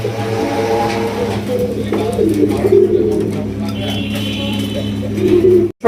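Indian Bombay pigeons coo in soft, repeated throaty calls close by, with someone talking over them and faint traffic behind.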